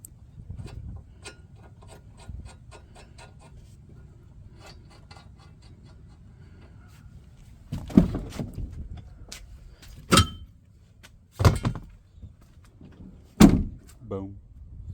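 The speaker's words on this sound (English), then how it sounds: "me show you how easy they are to snap off" Rock rail sliders being snapped off a Ford Bronco: several sharp, loud cracking thunks come in separate bursts, close by, after quieter rubbing and scraping. Someone talks faintly in between.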